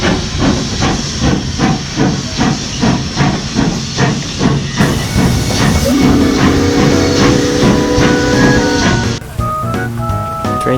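A steam train at the Rollag threshing show hisses loudly and continuously from close by, with pulsing chuffs early on and a brief whistle-like tone near the end, with no talking.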